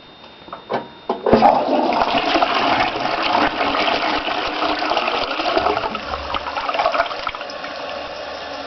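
A toilet flushes with a sudden loud gurgling rush after a few faint clicks, then the cistern refills with a steady hissing, trickling stream that gradually settles, heard alone.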